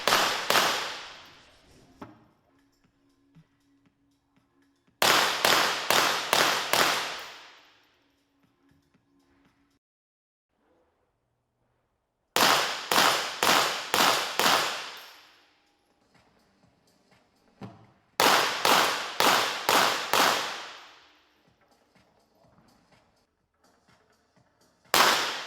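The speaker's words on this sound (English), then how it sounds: "Our competitors are shooting .22 caliber pistols." Competitors fire .22 caliber pistols at a range during a grand prix event, each series a rapid burst of about five sharp cracks, repeated four times with quiet gaps between.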